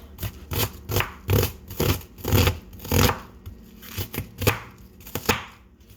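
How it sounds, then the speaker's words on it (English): A knife slices through an onion on a cutting board in a quick series of crisp, close cuts with small pauses, no voices. "Then what I do, I slice it."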